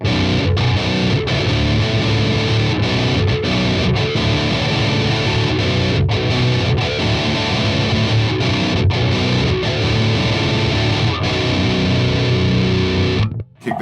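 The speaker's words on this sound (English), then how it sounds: "this is how the amp sounds by itself" A heavily distorted electric guitar plays continuously through the amp alone with no pedal engaged, thick and loud, with strummed chords and sustained notes, stopping abruptly at the end.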